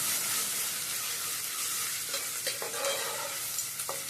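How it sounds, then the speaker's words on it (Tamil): Ginger garlic paste fries in hot oil for a prawn curry, giving a steady, close, loud sizzle with a few soft stirring scrapes and no talking. "கொஞ்சமாக இஞ்சி பூண்டு பேஸ்ட்டு சேர்த்துக்கலாம் இப்போ எண்ணெயிலே நல்லா வதங்கும்"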